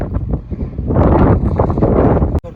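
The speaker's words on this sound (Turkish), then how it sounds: "Felaket bir rüzgar var." Loud, continuous wind buffeting the microphone at an outdoor car market in Antalya, a low rumbling roar that swells and stays strong throughout, with a brief dropout near the end.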